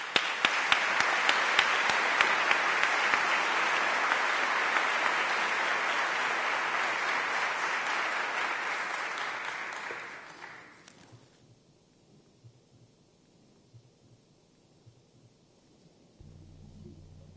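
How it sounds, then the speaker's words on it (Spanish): An audience at a book award ceremony claps loudly and continuously for about ten seconds, the dense applause then dying away quickly into near quiet with faint room noise. "Un aplauso para todos, por favor."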